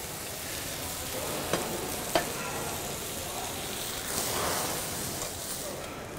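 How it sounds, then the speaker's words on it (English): Blanched bok choy goes into a hot pan with a small splash of broth, giving a steady sizzle with a few sharp clatters near the start and a swelling hiss of steam near the end. "I add my blanched bok choy. Small amount of the broth."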